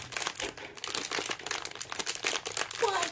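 Scissors cutting open the sealed plastic bag of a Unicornos Mermicornos Series 7 collectible toy, heard as close, loud crinkling and crackling of plastic over a few seconds, with a soft voice underneath.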